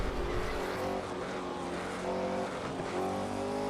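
Racing car engines roar continuously in the Assetto Corsa driving game as a Ford GT40 and a Porsche 908LH run side by side in a straight-line drag, a loud, steady high-revving drone with harmonic whine and no speech.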